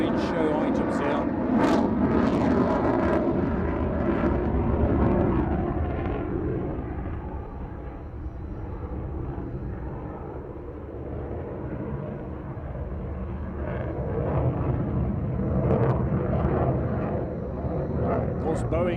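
A jet aircraft flies an aerobatic display at the Farnborough International Airshow, its broad roar swelling and fading continuously across the clip while a commentator talks over it.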